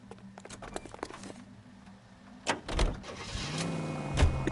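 A car door shuts and an engine starts in L.A. Noire, then the car pulls away with a rising engine hum and road noise, moderately loud.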